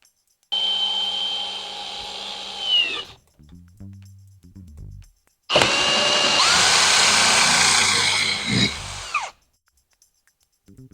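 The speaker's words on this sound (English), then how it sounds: "Now that you have your holes drilled" Power drill boring holes into the metal windshield frame of a Can-Am Maverick side-by-side, two loud sustained bursts of whining drilling separated by a brief pause with light handling clatter.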